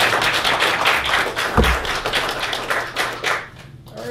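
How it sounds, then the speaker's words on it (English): An audience claps for a speaker at a marketing talk on referral strategies, a steady burst of fairly close hand-clapping over about four seconds that thins out toward the end. "Give him a warm round of applause"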